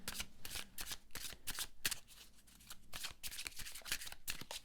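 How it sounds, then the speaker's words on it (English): A new, unused oracle card deck is shuffled by hand in quick bursts of crisp riffling and flapping, close and continuous with brief pauses, without talking. "We'll do a triple goddess shuffle, just to clear the cards of any previous."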